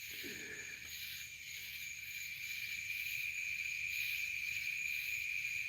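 Crickets, tree frogs and cicadas call at night in a steady high shrill chorus, faint and distant, with a continuous trilling drone throughout.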